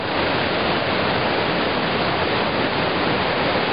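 Mountain waterfalls near Kosiv, a steady, loud, dense roar of rushing water heard close and alone.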